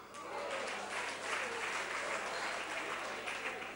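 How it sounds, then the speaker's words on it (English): Audience clapping during a parliamentary mid-term budget statement, a steady, fairly distant wash of applause filling the short stretch without pause. "I know you are clapping"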